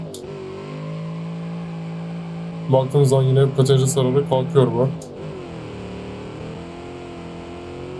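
A custom-built muscle car in BeamNG.drive launching for a 0–100 acceleration run, its engine note rising through a loud surge of revving gear pulls, under someone talking.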